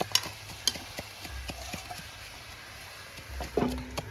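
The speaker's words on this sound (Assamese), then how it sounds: "এতিয়া এইটো লৰাই ঢাকনাখন লগাই দিওঁ।" Chicken and potatoes stirred in a cooking pot, a string of quick, regular scrapes and knocks over a soft, steady sizzle, close by with no voices.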